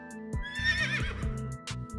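A single horse whinny rises and trembles for about a second over brief hoof-like knocks, close and fairly quiet, standing alone without talk.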